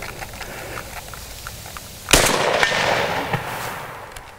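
A DP-27 light machine gun fired from the shoulder at a target about 80 yards away, outdoors: one loud, sharp report, then a lingering rumbling echo that slowly fades.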